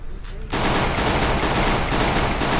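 Dense, continuous gunfire from the Free Fire video game that bursts in abruptly after a quiet half-second and then sustains as a loud, steady rattle of rapid shots to the end.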